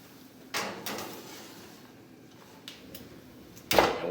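An oven door bangs shut in a home kitchen, with a few softer clicks and knocks before a sharper, louder closing thud near the end.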